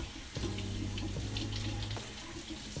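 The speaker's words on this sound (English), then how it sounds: "Rinse that one off." A tap runs close and steady as hands are rinsed of soap at a sink, the flow humming with shifting tones and briefly changing as the hands move under the stream, with no talking.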